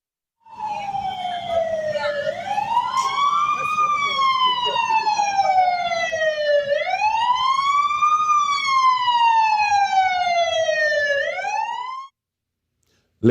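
Emergency vehicle sirens from fire appliances, an ambulance and police responding to a building fire in Trinidad and Tobago wail loudly and steadily, rising and falling in long sweeping cycles with no talking, then cut off abruptly.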